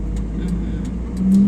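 A driving-test car at an exam route in Uzhhorod pulls away after the handbrake is released, its engine hum steady and then swelling louder as it moves off, with faint talk in the background.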